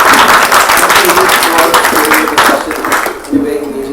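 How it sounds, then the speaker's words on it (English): Audience applause at a book launch event for the book "English Hinglish," steady clapping filling the room throughout and thinning slightly near the end, with a voice speaking over it. "A big round of applause once again for the audience."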